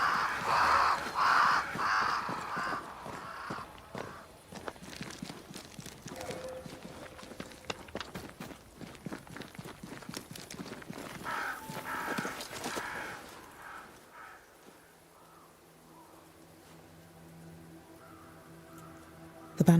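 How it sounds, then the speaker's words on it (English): Crows caw in Banishers: Ghosts of New Eden, a few harsh calls early on over scattered clopping hoofbeats and rustling movement, fading into a quieter, hollow ambience toward the end. "Crows. They flock to that great tree up there."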